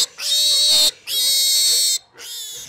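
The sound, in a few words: pig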